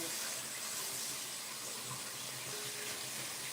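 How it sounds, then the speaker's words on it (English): Steady running tap water pours over noodles being rinsed in a kitchen sink, a continuous even hiss with no pauses and no talking. "We're going to rinse the noodles."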